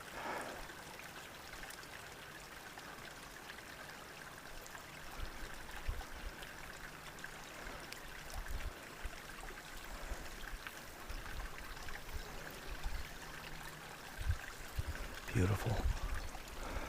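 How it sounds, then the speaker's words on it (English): Creek water flows steadily at the bottom of a rugged canyon on a hike, a continuous broadband rush with a louder splash near the end, while a hiker's speech sits over it. "There's the creek."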